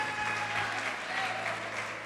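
A church congregation claps steadily in praise, a continuous wash of many hands heard at moderate distance, fairly soft and even throughout, with faint background tones beneath.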